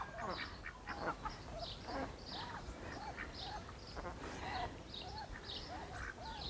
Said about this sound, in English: Ducks enjoying the garden